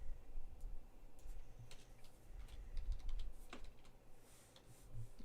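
Typing on a computer keyboard during a casual live stream, with irregular bursts of close, clicky keystrokes over a low background rumble and no talking.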